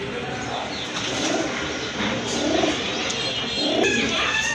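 Soft, low coos from large Rajgolla pigeons repeat in a steady rhythm over a constant background hiss, with occasional chirps from other birds.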